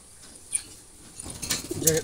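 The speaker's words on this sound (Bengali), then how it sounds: "যেটাকে বলে টপ কোয়ালিটি জালালি বুনো কবুতর।" Black Jalali wild pigeons give soft, low cooing near the end of a brief, quiet stretch, mixed with light rustling and a faint high chirp.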